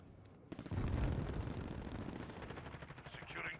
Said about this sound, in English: Enemy cruise missile incoming.